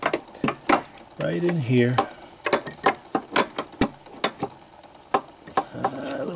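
Sharp metallic clicks and clacks as the crank is stowed on an HMV-101 gramophone, an irregular run of close ticks, with someone speaking briefly partway through.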